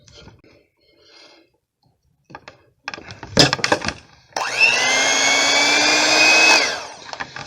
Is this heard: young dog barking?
no